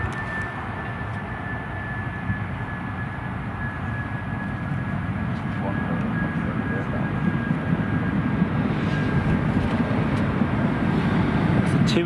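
An airliner landing or taking off in strong crosswind during Storm Gerrit at Newcastle Airport gives a steady, broad engine roar that swells slightly over the span, mixed with heavy wind noise and a thin high tone.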